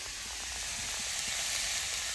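Green chilies drop into a pan of taro curry, setting off a steady, bright sizzle that runs evenly and close throughout with no voices.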